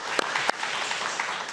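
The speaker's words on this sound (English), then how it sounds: "How about a nice round of applause for our special guest?" Audience at an evening community conversation event on farm-to-table food claps together, giving a steady, moderately loud round of applause with a few sharper individual claps.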